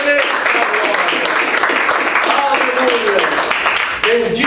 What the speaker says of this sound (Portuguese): as palmas vão